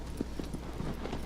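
A horse's hooves clip-clop in the video game Shadow of the Colossus, several quick, soft strikes in an uneven trotting rhythm over a low background.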